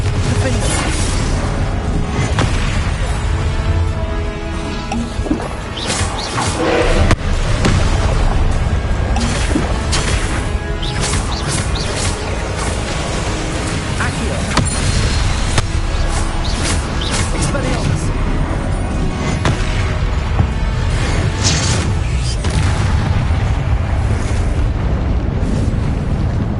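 Repeated fiery blasts of the Confringo explosion spell in Hogwarts Legacy, loud booming bursts layered over dense game noise and shouting for the whole stretch.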